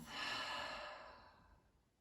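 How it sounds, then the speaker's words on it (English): One long, soft exhale through the mouth closing a short yoga practice, a close, breathy whoosh that fades out over about two seconds with nothing else heard. "Closing out this practice with one final clearing breath. Inhaling through the nose. Exhaling through the mouth."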